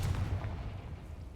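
The Confringo fire spell in Hogwarts Legacy goes off as a single deep booming blast that rolls and fades quickly, heard on its own with no talk.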